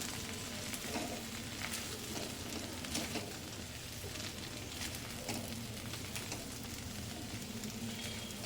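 Masala okra (bhindi) with turmeric, red chili powder and coarse spice powder sizzles steadily in a pan, with scraping stir strokes throughout and no voices.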